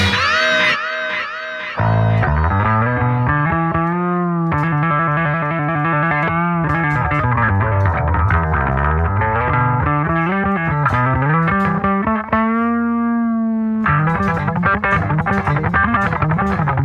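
An Epiphone Thunderbird Classic PRO electric bass runs through heavy effects, playing a melodic line with sustained, gliding notes and a thick, distorted tone, loud and alone without talk.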